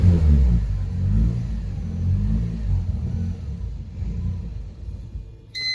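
A big-turbo Lexus GS300 engine that will not settle to idle revs unevenly, with a deep rumbling, surging drone that rises and falls close by and holds high instead of dropping back; no voices.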